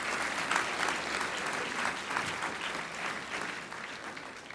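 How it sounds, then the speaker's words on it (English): Sustained applause from a large crowd at a regional Emmy awards ceremony, steady clapping throughout that eases slightly toward the end. "Let's give them a round of applause."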